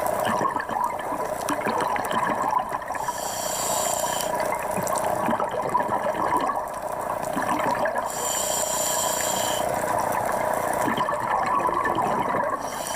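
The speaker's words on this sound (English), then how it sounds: "That sound is the sound of the bubbles when I'm breathing" Scuba diver's exhaled air bubbles rising underwater, a steady gurgling, bubbling wash that swells in bursts every few seconds with each breath, close and continuous with no voices.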